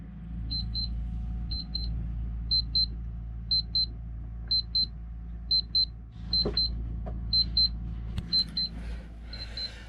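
A Topargee water level gauge alarm beeps in regular paired chirps, double beeps repeating about once a second over a steady low background hum.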